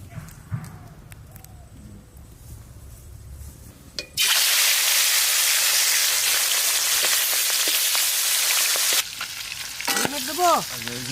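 A sudden loud hiss of frying erupts as cleaned singhi catfish hits hot mustard oil in a wok, sustaining a bright crackling sizzle, then settling while a voice speaks near the end.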